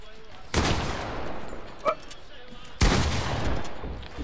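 Two loud bursts of rapid gunfire from the Fortnite video game, one near the start and another a couple of seconds later, each trailing off into a decaying rattle.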